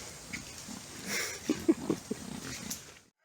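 Pigs grunt in a few short, low snorts, fairly close, among palm trees on an island in Honduras, over a quiet outdoor background.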